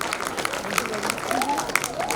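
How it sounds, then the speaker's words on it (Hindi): Audience applause at a golden jubilee celebration, a dense patter of many hands clapping together at moderate distance, with a voice speaking over it. "अगर प्यार करते हो तो जोरदार तालियां बजाएं"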